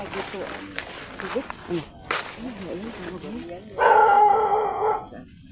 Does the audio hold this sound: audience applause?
no